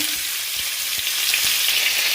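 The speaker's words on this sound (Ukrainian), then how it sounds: "Тепер висипаю туди цибулю" Chopped onions sizzle and fry in a pan of rendered smoked lard, a steady bright crackle with faint stirring taps underneath, close and continuous throughout.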